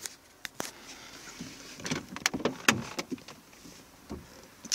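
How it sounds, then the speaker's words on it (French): A car door is opened during headliner removal, heard as a few close clicks and clunks of the latch and handle among scattered small handling noises, with no talking. "On va ouvrir la porte"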